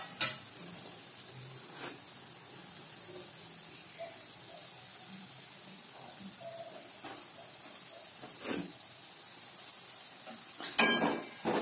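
A spoon stirs soft upma mixed with fresh coriander in a pan over a steady faint hiss, with occasional light scrapes and clinks against the pan.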